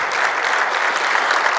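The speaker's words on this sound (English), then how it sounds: "a big round of applause to these folks" A conference audience applauds the board of trustees at a public safety pension conference, a full, steady round of dense clapping at close range with no talk over it.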